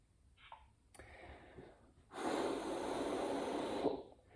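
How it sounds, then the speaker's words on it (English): Breathing into the microphone of a Black Series Scout Trooper helmet voice changer gives a breathy, processed rush. A soft puff comes first, then a long loud exhale that holds for about two seconds and cuts off abruptly. "the breathing technique I mentioned, you know, that kicks the mic and makes it activate as well"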